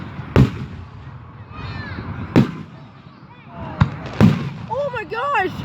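Fourth of July fireworks over Delaware, Ohio: several sharp booming bursts, spaced a second or two apart, with crackle and faint whistles between them and voices chattering in the background.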